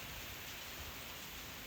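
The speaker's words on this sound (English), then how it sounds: "it's raining now." Steady rain falling outdoors in Spain on a mild day, a soft, even hiss of drops with no other sounds, faint and continuous throughout.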